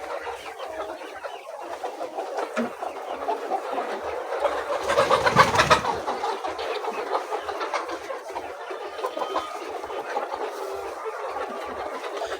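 Laying hens on a layers farm cluck and call continuously, a dense, steady flock chorus at close range with no talk over it.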